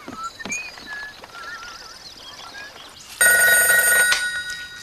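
A telephone in a cartoon bursts into loud, bright electronic ringing near the end, after quieter squeaky effects and clicks.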